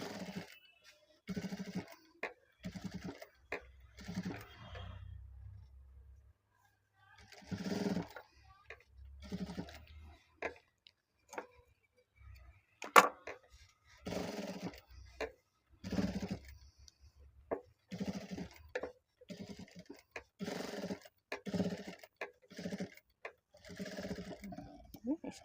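A sewing machine stitches a mobile phone pouch in short bursts of running stitches separated by pauses, fairly quiet, with a person talking between and over the runs.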